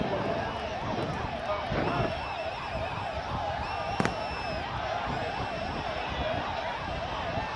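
An ambulance siren wails in a steady rising and falling cycle near an outdoor political rally, heard over a constant noisy crowd bed with one sharp bang partway through.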